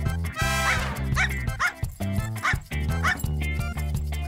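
A dog barks and yips repeatedly in quick bursts over a steady, loud background of music, the barks close and prominent.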